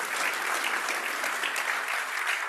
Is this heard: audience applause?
yes